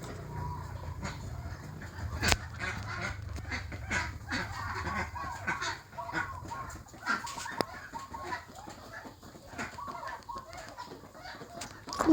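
Ducks and chickens kept for eggs on a farm cluck and honk in a busy, overlapping mix at close to mid distance, with scattered louder calls and no clear talking.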